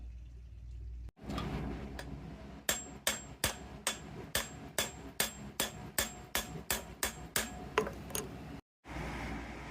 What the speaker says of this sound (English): It has been entirely too long with entirely way too much hammering.